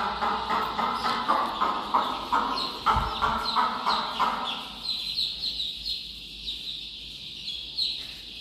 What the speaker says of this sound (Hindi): आवाज दे रही मुर्गी